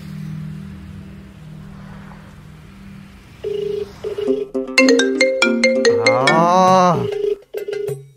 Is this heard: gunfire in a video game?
no